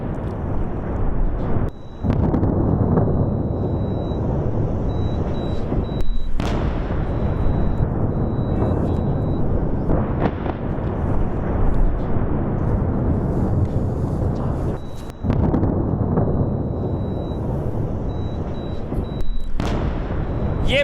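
Continuous heavy rumbling blasts with periodic sharp booms, dense and loud throughout, like artillery fire and explosions heard from a distance, from an attack on Beirut during the Iran–Israel war.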